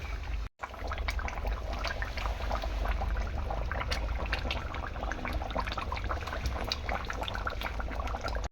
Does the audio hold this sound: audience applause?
no